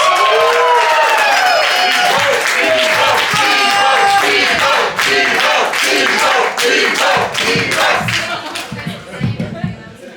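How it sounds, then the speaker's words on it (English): A comedy roast audience gives a big round of applause, cheers and whoops as the roastmaster Ivo Slegers is introduced. The dense, loud crowd noise carries a few shouted voices and fades a little toward the end. "please give a big warm round of applause for your Roastmaster Ivo Slegers!"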